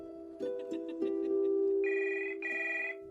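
A telephone rings in repeated electronic bursts, a steady warbling tone starting and stopping in a clear rhythm, fairly close and alone with no voices over it.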